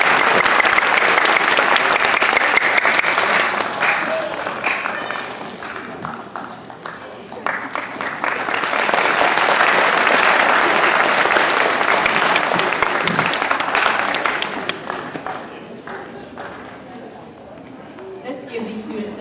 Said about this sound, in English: give these students another round of applause